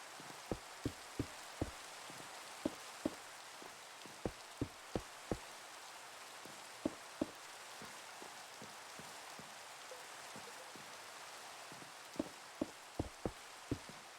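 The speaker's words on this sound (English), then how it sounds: "while I'm getting rained on" Rain falls in Minecraft as a soft, constant patter with scattered crisp droplet ticks in irregular bursts, quiet and without speech.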